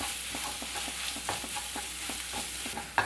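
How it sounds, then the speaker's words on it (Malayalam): Chilli powder and spices frying in a pan for a dry prawn roast, with a steady low sizzle broken by repeated scraping stirs of a spatula at a close, even rhythm, ending in a sharp clack. "എല്ലാം കൂടെ ഇതുപോലെ നമുക്കൊന്ന് നന്നായിട്ട് വഴറ്റിയെടുക്കാം."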